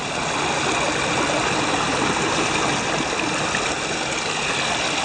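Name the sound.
creek stream flowing over rocks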